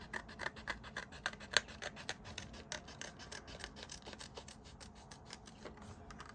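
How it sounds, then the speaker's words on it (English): Scissors cut out a paper image close up: a quick, steady train of crisp snips with light rubbing of the paper in between, and no voices. "Let's just cut this out. Nice simple image to cut out."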